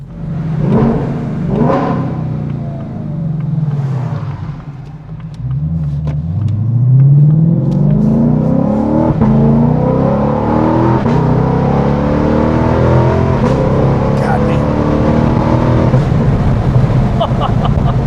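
Ford Mustang GTD engine heard from the cabin on the road, a loud rumble that dips, then climbs in a long rising part-throttle acceleration, with brief talk early on.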